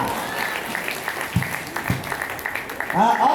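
An audience claps continuously at a Hindi poetry recital (kavi sammelan) in Mumbai, with a voice speaking over the applause.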